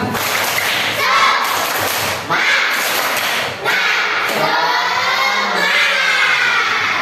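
Children in a classroom doing the rhythmic "tepuk semangat" spirit clap chant, loud, close group claps and shouted chanting that pause briefly twice.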